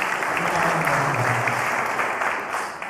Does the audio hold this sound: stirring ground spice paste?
no